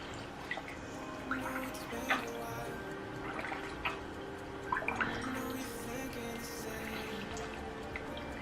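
A makeup eraser cloth dipped into a bowl of water, with soft irregular drips and small splashes falling back into the water, quiet and close.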